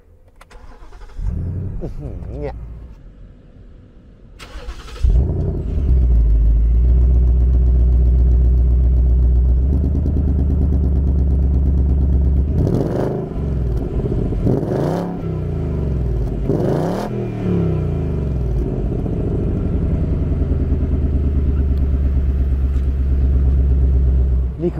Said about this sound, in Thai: เดี๋ยวผมสตาร์ทรถให้ฟังกันนะ